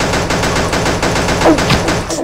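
Rapid gunfire from Pixel Gun 3D rattles in a dense, loud fusillade, shots repeating evenly and close with no pause.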